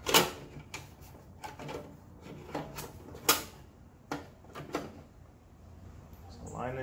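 The cover and screws go back onto a Harbor Freight tile saw, heard as a series of close plastic and metal knocks, clicks and taps at an uneven pace, with some talking around them.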